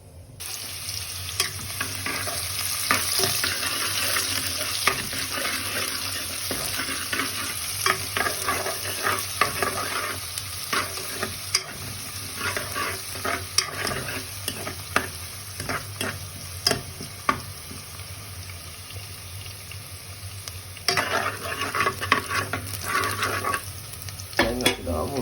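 Salt, garlic and tomato sizzle and fry in a pan while being stirred, a steady hiss broken by repeated scraping, clacking strokes of a utensil, close and continuous.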